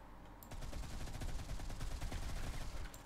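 Rapid automatic turret gunfire in the mobile shooter Modern Combat 5, heard as a dense, fast rattle of shots that starts abruptly and continues for about two and a half seconds at a fairly faint level.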